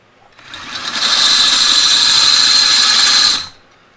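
A high-pitched power drill spins up, runs steadily at a loud whine for about three seconds, then winds down, while fitting a car roll cage.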